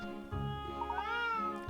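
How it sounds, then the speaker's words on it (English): Cat meowing in the Switch game Layton's Mystery Journey, a single drawn-out, clear meow with rising and falling pitch, close and alone without talk. "Well, let's have a look at that cat then."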